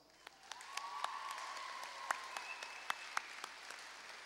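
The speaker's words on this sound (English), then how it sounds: "Let's give the teachers and staff a huge round of applause." A graduation audience gives teachers and staff a steady round of applause, a dense, moderately distant clatter of many hands with a few sharper claps standing out. No one speaks over it.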